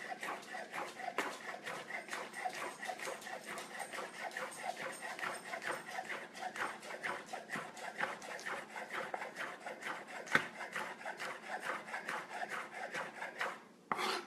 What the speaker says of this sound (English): Just going to use a slicing motion here.